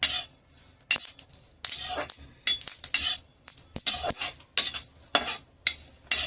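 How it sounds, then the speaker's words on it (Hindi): Puffed gond (edible gum) is stirred and roasted in a dry pan, with a series of sharp scraping and rattling strokes in an uneven rhythm, close and fairly loud, without speech. "इनको ऐसे भूनती हूँ मैं।"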